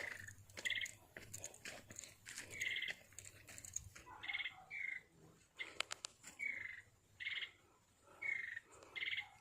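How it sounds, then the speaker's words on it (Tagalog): A bird sings on a farm, repeating short, bright chirping phrases at a steady rhythm, fairly close but faint, over scattered rustling and thumps. "Kinakantahan tayo ng ibon."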